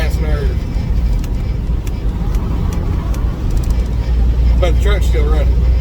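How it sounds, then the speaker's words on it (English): A semi truck's engine idles in a steady low rumble heard from inside the cab, with muffled voices rising briefly toward the end. "But the truck's still running."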